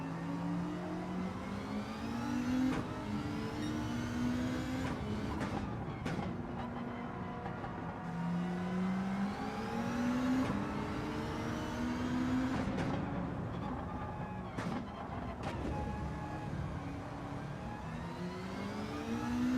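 Racing car engines in Gran Turismo 7 rev and shift continuously, their pitch repeatedly climbing and dropping as gears change, a steady, fairly close roar with no talking.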